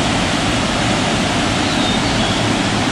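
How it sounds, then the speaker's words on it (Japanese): A double waterfall tumbles into a mountain gorge on Mount Mikagura, making a constant dense rushing roar that stays even and unbroken, with no voices. "滝がダブルで落ちてますね"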